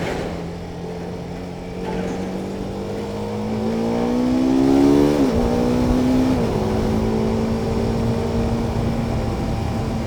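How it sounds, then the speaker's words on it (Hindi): A car on a bridge road approaches and passes close by, its engine drone rising in pitch and loudness, dropping sharply as it goes past, then fading into steady road and wind noise. "आ रही है गाड़ी।"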